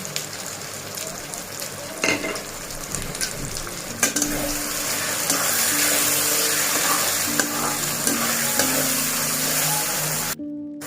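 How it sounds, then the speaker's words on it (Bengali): Ground spices (turmeric, red chilli, black pepper, coriander and cumin powders) fry with green chillies in a pan for a goat curry, giving a steady close sizzle with occasional sharp stirring clicks and scrapes, no talking. "গুঁড়ো মশলাগুলো একটু ভাজা ভাজা হয়ে গেছে।"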